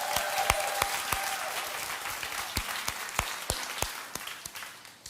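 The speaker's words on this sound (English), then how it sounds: "Why don't we give them a round of applause for the work they're doing," An audience applauding steadily, a dense wash of clapping with a few sharp, distinct claps standing out, fading slightly at the end.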